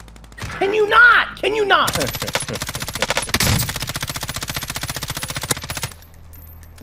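Rapid automatic gunfire in an online shooter game rattles in dense bursts for several seconds, loud and close, with a player's voice briefly heard over it.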